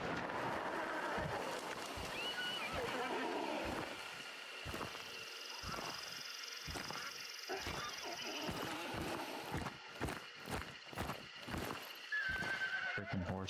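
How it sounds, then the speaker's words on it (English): Horse neighing and clip-clopping hooves in the game Hunt: Showdown, a whinny rising over a steady run of hoofbeats with ambient game noise, some faint talk mixed in. "freaking horse is right there too."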